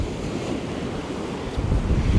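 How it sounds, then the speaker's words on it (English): Ocean surf breaks on a beach in a steady loud wash of churning water and wind rumble, swelling heavier near the end, with no voices over it. "I'm gonna be in the battle with the surf here though."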